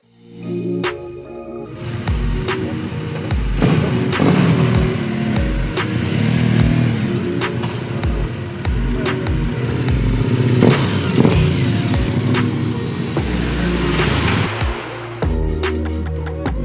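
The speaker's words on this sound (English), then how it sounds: "how responsive the bike actually is on the road" A KTM 1290 Super Adventure Euro 5 motorcycle with a remapped engine accelerating hard on the road, loud and close, with repeated revving surges, gear changes and wind and road clatter throughout.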